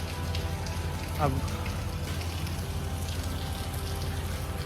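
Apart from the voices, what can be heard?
rain falling at a toll plaza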